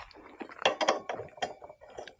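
A ratchet wrench loosens parts on a Splendor motorcycle being modified, with several short bursts of close, sharp pawl clicks and brief pauses in between.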